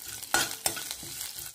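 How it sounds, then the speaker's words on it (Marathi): Mustard seeds, cumin and green chillies fry in hot oil in a pan, with a soft sizzle and a couple of sharp stirring scrapes close by. "येथे मी पातेल्यात तेल गरम करून घेतलेले आहे। त्यामध्ये मोहरी टाकून घेतलेली आहे।"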